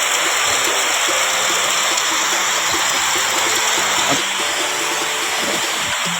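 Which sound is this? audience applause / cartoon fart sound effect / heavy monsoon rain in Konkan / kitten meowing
heavy monsoon rain in Konkan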